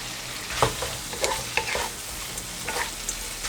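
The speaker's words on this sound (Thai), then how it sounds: "เสร็จแล้วก็เป็นกุ้งนะครับใส่ลงไปเลย" Shrimp stir-fried with glass noodles in a hot pan, a steady sizzle broken by repeated scraping clacks of a utensil, close and without talk.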